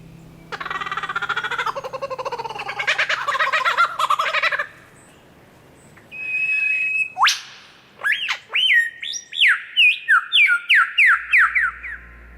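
A superb lyrebird runs through mimicked calls of other birds: a burst of raucous gobbling chatter, then a clean whistle and a rapid series of ringing, downward-sweeping notes, close and clear against quiet surroundings.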